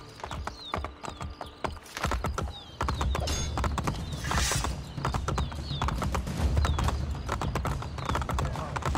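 Horse hooves galloping in Assassin's Creed Brotherhood, a fast, steady clip-clop close and loud, with game sound effects and a faint whinny mixed in.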